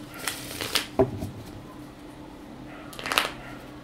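Cards being shuffled for an astrology card reading, a few soft scattered riffles and flicks, close but faint, with quiet gaps between them.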